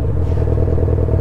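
Yamaha XJ6 motorcycle engine idling with a steady low rumble and a faint irregular clatter, close and continuous, no voices.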